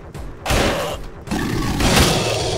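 Loud, booming gunshots in the first-person shooter Anger Foot, two heavy bursts of firing separated by a brief lull, close and dominant with no talk.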